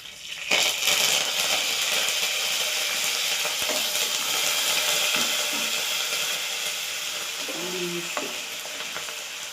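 Curry leaves hit hot oil in a pan, a sudden loud crackling sizzle that continues steadily with occasional stirring scrapes and small clinks, nearby and without talking.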